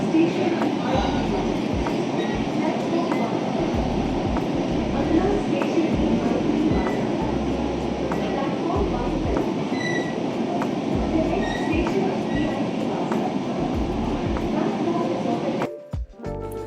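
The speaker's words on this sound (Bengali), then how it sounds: "রুবি থেকে আমাদের মেট্রো এগিয়ে চলল তার পরবর্তী স্টেশন" A Kolkata metro train running from Hemanta Mukhopadhyay (Ruby) toward VIP Bazar, with a loud continuous rumble and rhythmic wheel clatter inside the carriage and a sharp shift at the end.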